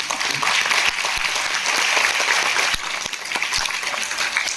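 A live audience claps steadily throughout at a large motivational seminar in Satya Sai Auditorium, New Delhi, a dense, loud wash of applause with a brief dip near the end.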